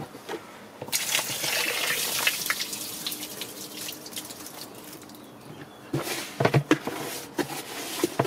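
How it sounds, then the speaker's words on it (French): Water poured into a container for a homemade trash-bin terrarium, a close splashing trickle that starts abruptly, runs steadily, then ends in a few louder gurgling spurts. "je mets un peu d'eau pour que ça soit plus facile à vider"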